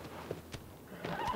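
A short, quiet horse whinny in the video game Shadow of the Colossus, rising near the end, preceded by faint thumps and soft hoof-like clops.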